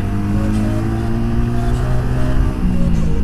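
Modified Yamaha New Vixion motorcycle in traffic: a loud, close engine drone rises in pitch as it accelerates, with a brief dip and recovery near the end.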